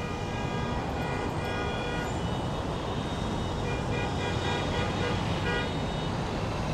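Dense city traffic in Ulaanbaatar forms a constant loud roar of engines and tires with faint horn tones mixed in, unbroken throughout.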